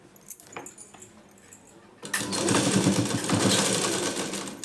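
An electric sewing machine stitching a blouse starts after a couple of seconds of quiet handling clicks, then whirs in a steady, close, rapid hum.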